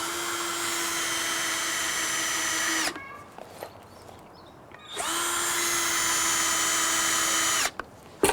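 A cordless power drill drives screws into the mount of a Trapinator possum trap, two long steady whirring runs with a pause between and a short burst at the end, loud and close.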